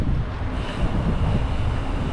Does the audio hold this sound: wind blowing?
yes